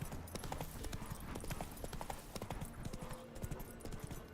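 Horse hooves galloping in The Witcher 3: Wild Hunt, a steady rapid clatter of hoofbeats running throughout at moderate level, with faint game voices mixed underneath.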